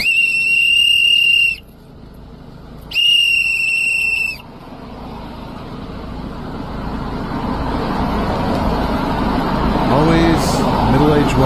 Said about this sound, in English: here's more of the guy that's bringing his own whistle to the ice